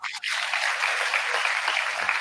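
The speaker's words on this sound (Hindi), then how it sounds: "ताली बजा दीजिए।" Loud, dense audience applause at a World Environment Day and Menstrual Hygiene Day celebration, steady clapping that fills the whole short stretch, close and continuous.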